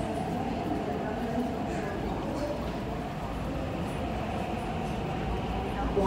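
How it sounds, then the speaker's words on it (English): Steady low rumble and rolling rail noise of a subway train arriving at Hung Hom Station, continuous and fairly loud throughout with faint background voices. "A train to Admiralty is arriving."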